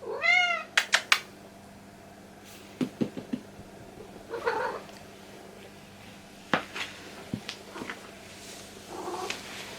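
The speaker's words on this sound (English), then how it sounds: "He's purring, but I don't know what he wants." A cat purrs and gives a few high meows and short chirps, close by, separated by quiet gaps with faint soft sounds between them.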